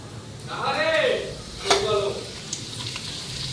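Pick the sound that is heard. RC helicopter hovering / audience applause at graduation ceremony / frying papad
frying papad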